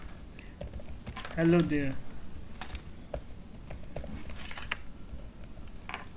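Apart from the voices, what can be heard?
typing code on a computer keyboard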